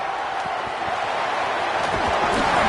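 At a stadium football game, a large crowd roars steadily after a punt return, a dense, sustained wash of cheering heard from within the stands.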